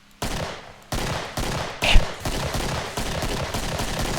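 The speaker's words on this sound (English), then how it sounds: "So let's just take out this pistol." Pistol gunshots in the Killing Floor video game, about eight loud, sharp reports fired at irregular intervals over a continuous noisy game background with no speech.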